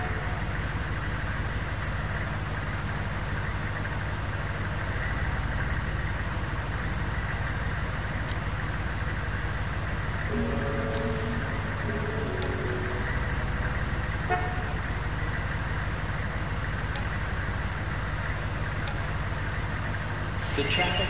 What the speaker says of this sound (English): The traffic doesn't seem to be in any hurry to break gridlock.